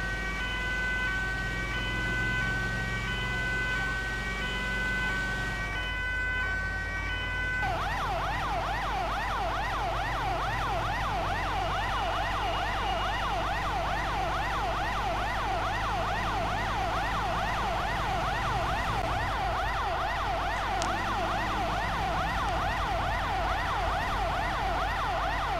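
Ambulance siren in an updated Finnish-style pattern, a steady two-tone wail giving way to a rapid warbling yelp that sounds loud and continuous for the whole stretch, with no talk over it.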